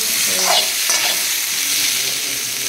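Jackfruit fries in a pan as potatoes are tossed in, a loud, steady, close sizzle of hot oil with faint stirring scrapes, and no talk.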